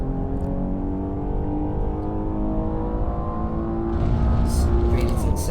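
Maserati Levante SUV engine droning steadily at high revs in the Assetto Corsa racing game, with a rise in pitch and brief tyre or gear noises near the end while someone talks over it.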